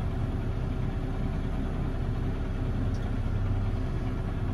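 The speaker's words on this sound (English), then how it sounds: "The T7 315, if anyone's a New Holland tractor geek." A New Holland T7 315 tractor engine running in a field during potato digging, a steady low rumble with no breaks, fairly faint and constant throughout.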